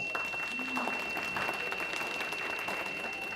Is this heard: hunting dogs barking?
no